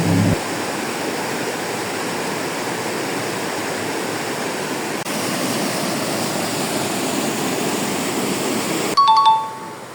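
The Lawit River, swollen by rain, roars steadily and loudly throughout, a constant wash of noise, with a brief electronic beep near the end.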